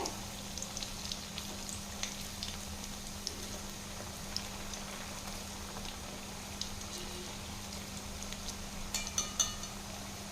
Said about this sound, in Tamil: இந்த எண்ணெயோட சலசலப்பெல்லாம் குறைஞ்சிட்டு நல்லா வெந்துடுச்சு பார்த்தீங்களா